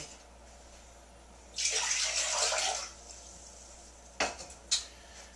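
Water from a tap rushes into a medium-sized saucepan in a home kitchen for about a second, then stops, followed by two short clinks of metal against the pan.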